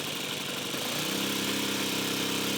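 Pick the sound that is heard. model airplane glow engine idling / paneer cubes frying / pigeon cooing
model airplane glow engine idling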